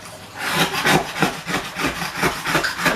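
Carpet padding scraped off a floor during a flooring project, heard as a steady run of about eight rhythmic, rasping strokes close up, with no talking.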